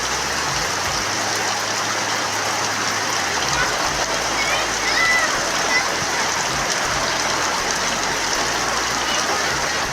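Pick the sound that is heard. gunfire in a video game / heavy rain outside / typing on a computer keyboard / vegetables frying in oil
heavy rain outside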